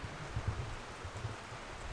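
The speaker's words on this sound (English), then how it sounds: "it's raining." Rain falling outdoors in Oregon, a steady close hiss of drops with soft low patters, faint and continuous with no voices.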